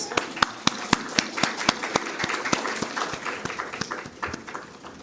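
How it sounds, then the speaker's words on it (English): Audience applause at a report launch event, with individual sharp claps standing out in a steady rhythm over a modest crowd of hands, fading slightly toward the end. "May we have a big round of applause."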